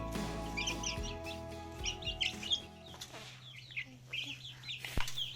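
Chickens clucking in a small separated group, repeated soft clucks and chirps scattered throughout at close range over a low background hum.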